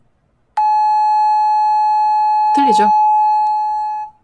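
A pure 852 Hz solfeggio-frequency tone starts abruptly and holds steady and loud for several seconds, with a man's short spoken question breaking in over it.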